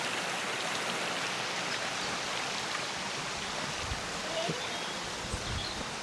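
A small mountain stream running full near a village, its steady broadband rush and gurgle continuous and close, with faint speech underneath.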